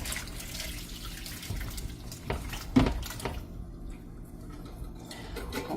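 Tap water runs into a pot in a kitchen, a steady splashing stream that builds and then cuts off, with a clink of cookware partway through.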